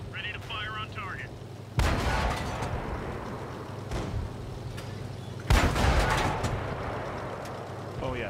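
Tank cannon shots in the World of Tanks video game, two loud booming blasts a few seconds apart, each trailing into a long rumbling decay under a steady engine drone, with radio-style game voices chattering faintly before the first shot.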